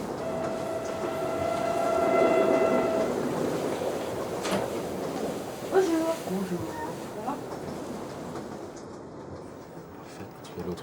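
Train passing, recorded for a film soundtrack: a rumbling rail roll swells and fades, with long sustained horn-like tones early and clattering bursts midway, then trailing off into quiet.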